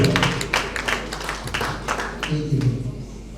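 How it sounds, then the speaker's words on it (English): At a law conference, an audience breaks into scattered applause of many hands, with a voice speaking over the clapping as it carries on steadily. "A round of applause for him."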